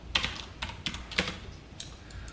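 Keys on a computer keyboard are struck in a few sparse, separate taps, close and fairly quiet, with no talking.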